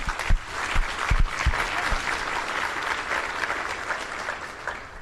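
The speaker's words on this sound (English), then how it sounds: "Let's give them a round of applause." Sustained audience applause at a summit keynote, a dense wash of clapping from a large crowd, with a few sharper claps near the start, holding steady for about five seconds.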